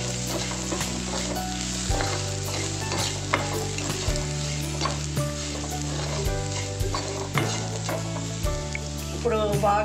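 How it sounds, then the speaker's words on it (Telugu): Chili powder and ground spices fry in a pan, a constant crackling sizzle broken by repeated stirring scrapes and a few louder clanks, with no voices. "బాగా వేగింది కదండి కారం అది కూడా వేగింది."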